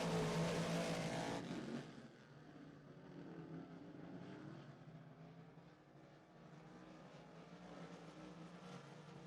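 Race cars lapping a track, a loud engine roar up close at first that drops to a steady, more distant drone of several cars circling, no speech.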